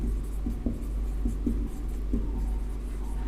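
Someone writes on a board, with a short series of tapping and scratching strokes in an uneven rhythm, heard close over a faint low hum and no speech.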